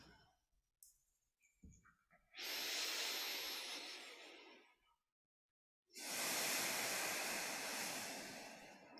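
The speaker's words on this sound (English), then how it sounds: "And returning to normal breathing." Two long, loud breaths during a guided breathing exercise, each a broad airy rush lasting a few seconds, separated by a short silence, with soft clicks and small rustles before the first one.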